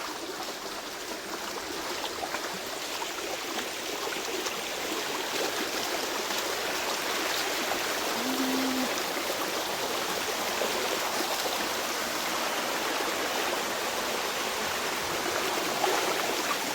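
Small Kinni Majal Falls running with low water flow, a steady broadband rush of falling water that continues evenly throughout, fairly close and alone with no voices.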